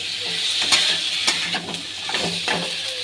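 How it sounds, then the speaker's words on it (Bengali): Potatoes tossed into a hot pan hiss with a loud, bright sizzle while a utensil stirs them, scraping and clinking in a few strokes, close up and without speech. "আমি আলুগুলো দিয়ে দেবো, একটু হালকা নেড়ে নেব।"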